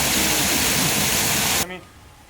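Steady broadband rush of flowing water from a waterway in a nature reserve, loud and continuous before cutting off abruptly near the end, with a faint voice afterward.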